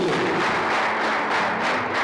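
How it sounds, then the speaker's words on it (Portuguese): Church congregation clapping together in praise, a dense, even wash of hands with a faint pulsing rhythm, fairly close and steady throughout the short stretch. "Vamos aplaudir nosso Deus."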